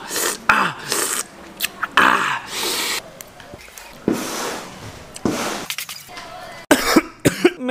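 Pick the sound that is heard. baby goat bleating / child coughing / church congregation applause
child coughing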